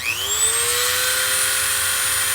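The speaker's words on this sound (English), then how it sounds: "we will take a Dremel tool on a flexible extension and put a couple holes in this sucker" A Dremel router on a flexible extension, drilling holes in a Gretsch Alligator resonator guitar, whines as it spins up then holds a steady high-pitched tone, close and loud.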